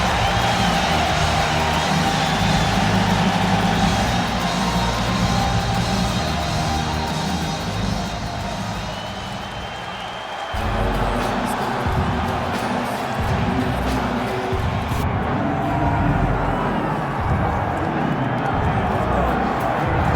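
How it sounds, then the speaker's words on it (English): A UFC arena crowd cheers as fighter Joseph Benavidez walks out for his bout with Petr Yan, a dense roaring swell that dips briefly and then surges back, with a commentator talking over the noise throughout. "So you can sort of feel an uptick in terms of the crowd energy."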